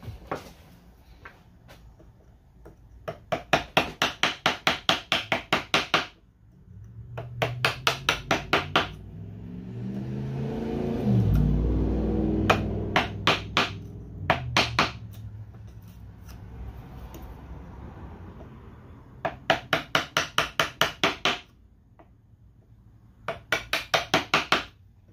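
Hand sawing wood for a Roubo-style book stand: bursts of fast, rhythmic rasping strokes close up, separated by pauses and a low rumbling shuffle in the middle.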